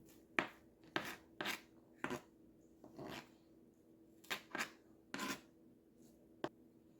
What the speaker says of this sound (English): I'm just going to run my knife over this a couple of times.